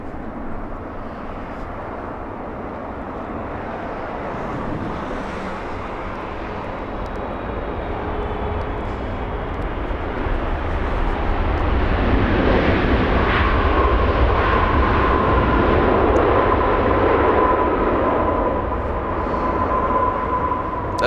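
Japan Airlines airliner arriving at LAX from Tokyo Haneda, a low jet roar that swells steadily louder as it approaches and stays strong toward the end, with no voices.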